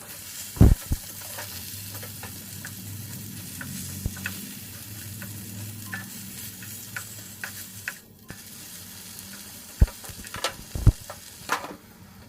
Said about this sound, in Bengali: আর এইভাবে একটু ঢাকা দিয়ে পটলটা ভাজবো আর কি।